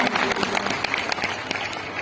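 Audience applause at a public ceremony honouring children with disabilities: dense, steady clapping from a crowd for about two seconds, with a voice faintly over it.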